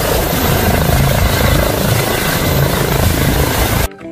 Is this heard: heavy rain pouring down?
no